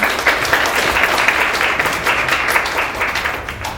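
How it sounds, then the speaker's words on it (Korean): An audience at a women's policy forum in Seoul applauds steadily and fairly loudly, a dense, even wash of clapping lasting several seconds with no voices over it. "큰 박수로 환영해 주시기 바랍니다"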